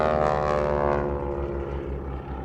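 A propeller aircraft flies past at the Farnborough International Airshow, its loud throbbing engine drone and pulsing prop beat dominating, slowly fading as it moves away.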